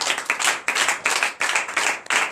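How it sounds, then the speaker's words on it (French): A church congregation claps in close, loud bursts of rhythmic clapping during a night deliverance and prophecy service, with no voices over it. "Donnez l'acclamation à notre Seigneur Jésus."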